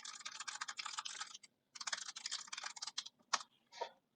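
Rapid, steady keystrokes on a computer keyboard while code is written, close and clear, in two dense bursts with a short pause and a few isolated clicks near the end; no talking.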